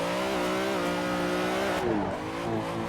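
A BMW M3 drift car in Assetto Corsa holds a loud, sustained engine drone. The pitch dips and wavers as a gear change is missed, with faint tire scrub underneath.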